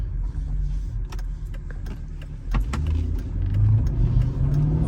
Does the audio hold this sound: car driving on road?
yes